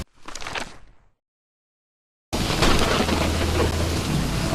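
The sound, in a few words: rain in video game Call of the Elder Gods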